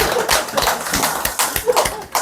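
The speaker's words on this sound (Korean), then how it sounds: "박수 한번 칩시다." A parent education lecture audience claps together in a short burst of uneven, irregular claps, close and moderately loud, lasting about two seconds.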